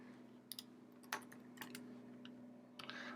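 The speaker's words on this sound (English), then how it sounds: "And type in memes" Quiet computer keyboard typing: a short burst of light, irregular key clicks at close range over a steady low electrical hum, with no voices.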